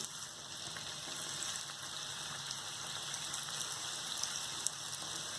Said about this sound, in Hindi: अब हम तैयार किए हुए ब्रेड के स्लाइस को ऑयल में डालेंगे।